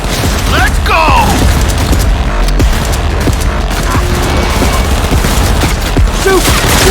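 Dense firefight gunfire from the video game Cyberpunk 2077, with continuous loud bursts, pops and booms filling the whole stretch, mixed with shouting voices and other game sound effects.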